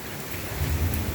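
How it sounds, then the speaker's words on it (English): Rain falls steadily during a thunderstorm in Boynton Beach, Florida, while a low rumble of thunder rolls in partway through, fairly loud. "And the thunder and the lightning, it's just fun. It's loud,"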